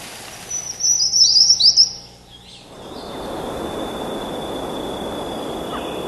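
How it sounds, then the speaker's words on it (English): Birds chirp and trill in a high-altitude mountain forest in Taiwan, a bright burst of song lasting a couple of seconds before giving way to a steady wash of forest ambience and a faint, sustained high tone. "listening to the bird song"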